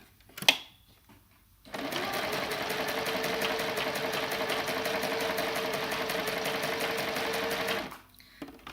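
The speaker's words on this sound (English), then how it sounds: "So I'm just sewing around 3 edges. And I'm just using a simple straight stitch." A home sewing machine runs a steady straight stitch along the edges of a lavender-filled cushion made from home-printed fabric. A brief knock comes first, then about six seconds of continuous, even mechanical whirring, close and alone, stopping abruptly.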